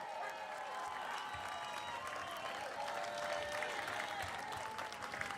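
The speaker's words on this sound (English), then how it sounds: "Can we do us all a favor and start clapping right now for the legendary Spike Lee coming to the stage?" Crowd at the reopening of Ben's Chili Bowl applauding Spike Lee as he comes to the stage, a continuous, moderately distant wash of clapping with a few cheers mixed in.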